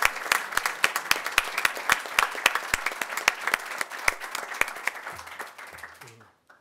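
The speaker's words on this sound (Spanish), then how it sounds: "un aplauso para los organizadores" An indoor audience applauds the organizers of a gathering: dense, close clapping with sharp individual claps, fading out over several seconds.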